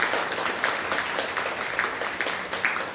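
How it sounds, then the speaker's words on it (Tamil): Audience applause for temple priests during a Pongal special debate program, a steady wash of many hands clapping throughout with no voice over it. "இங்கே சிவாச்சாரியார்களுக்கு ஒரு கைத்தட்டு கொடுங்க"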